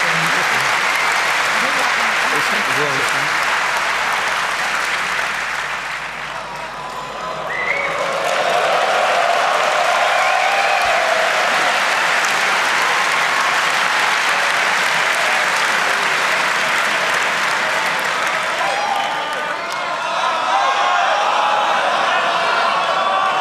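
Audience at a CCC Congress annual review talk applauding, sustained dense clapping filling the hall, briefly dipping then swelling again, loud and continuous with no speech over it.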